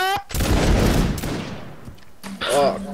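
A musket volley fires in the video game Mount and Musket, a loud ragged burst of many overlapping shots followed by a fading rolling echo, with shouted commands from players just before and after.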